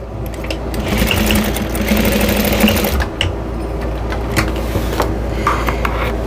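Sewing machine basting fabric for a towel hanger, running steadily at close range with a continuous whirring motor and rapid needle rhythm, speeding briefly in bursts.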